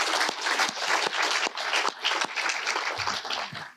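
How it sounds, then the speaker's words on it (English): An audience at a university three minute thesis competition breaks into sustained applause, dense clapping from many hands throughout, fairly close and steady, with a few sharper individual claps standing out. "give a round of applause for all of those people"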